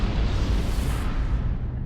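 A massive supernova explosion rendered as a deep, continuous roaring rumble, loud and sustained with no distinct onset, heard alone.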